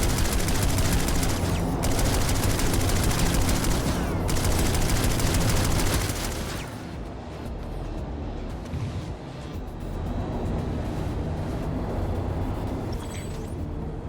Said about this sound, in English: I heard the sound of a sentry.